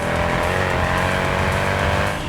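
Loud, continuous roar of a naturally aspirated V8 car engine revving hard, dense and close, with a faint tire squeal mixed into the engine noise.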